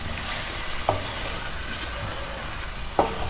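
Tomato and ginger-garlic paste sautés in a pan with a constant loud sizzle, broken by two sharp spoon knocks against the pan about two seconds apart.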